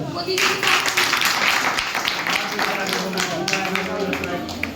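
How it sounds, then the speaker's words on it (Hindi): A crowd at a celebration event in Gurgaon, Haryana, claps loudly and steadily for about five seconds, with talk and voices mixed in beneath the applause. "एक बार जबरदस्त तालियां।"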